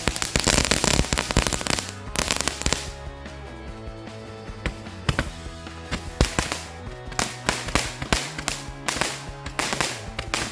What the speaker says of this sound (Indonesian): yang selanjutnya kita nyalakan mercon bola pelontar ini yang 10 shoot